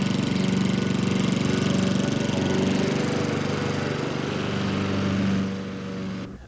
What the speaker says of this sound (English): A gas lawnmower 31 meters away will create a sound level of approximately 70